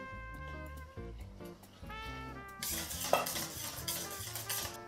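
A spoon stirs custard cream in a pot, giving faint, soft scraping that turns busier and louder partway through. Quiet tonal sounds play underneath.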